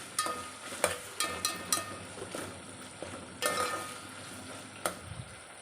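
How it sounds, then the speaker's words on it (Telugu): Tempering for carrot wheat rava upma stirred in a pan, with intermittent scraping and clinking of a spoon against the pan over a soft, steady sizzle, in short irregular strokes. "ఈ విధంగా తాలింపు అంతా మంచిగా కలపాలి"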